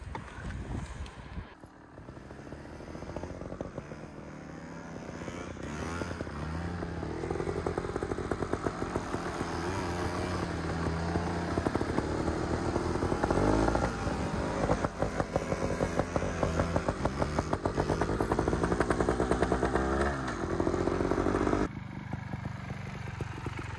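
Trail motorcycle revving continuously on a beach while doing donuts, a loud close engine roar rising and falling with throttle for most of the stretch before easing off near the end.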